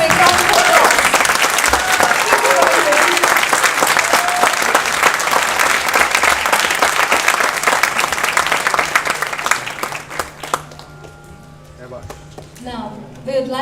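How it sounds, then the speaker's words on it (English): A concert audience at a saxophone and flute arangetram gives a long, loud round of applause that fades out near the end, with a speaking voice over the last moments. "Please give them another big round of applause."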